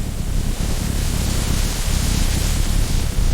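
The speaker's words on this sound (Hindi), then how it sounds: "एक जबरदस्त ठंडी और आंधी शुरू हुई।" A cold, violent storm wind blows as a continuous, heavy roar of noise, thick and unbroken throughout with no voices.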